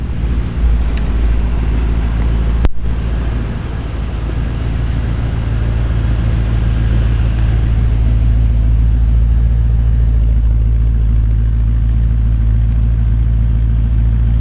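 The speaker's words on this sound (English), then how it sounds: "Underneath the hood, very subtle in its presentation, is a Chevy 350 GM performance crate engine." A 1952 Mercury Monterey convertible resto-mod with a Chevy 350 GM performance crate engine idles steadily, a loud, close, continuous low rumble with one sharp click early on.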